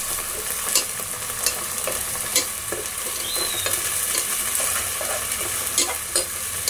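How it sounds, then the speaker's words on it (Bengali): Onion and garlic paste frying for Bengali beef kosha, a steady close sizzle with periodic spatula scrapes and taps throughout, no voices. "এক চামচ রসুন বাটা দিয়ে দিলাম। তো এইগুলোকে আমি কষিয়ে নেব।"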